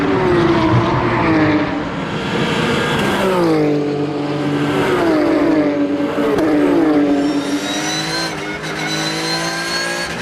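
Racing cars at the Magny-Cours circuit fill the air at a race start, several engines droning and revving loudly together with rising and falling pitch sweeps, a continuous roar from start to finish with no voices.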